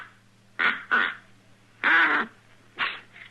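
Someone blows a duck call in a short series of nasal quacking honks, four distinct calls with pauses, the third longest, close and clear over a faint low hum.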